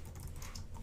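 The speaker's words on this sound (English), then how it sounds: "I'm going to hit F6 on my keyboard here" Keys tapped on a computer keyboard while coding, soft, quick, faint key clicks in an irregular run with no talk.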